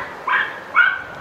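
A man imitates a dog barking with two short, loud bark-like calls in close succession; no other talk is heard.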